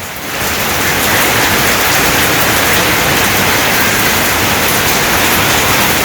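Loud, steady rain roars close by after a brief quieter moment at the start, a dense unbroken hiss of drops pounding a surface, in a Bangladeshi village.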